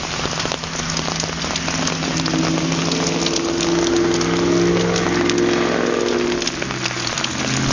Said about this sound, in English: Just lots and lots of rain.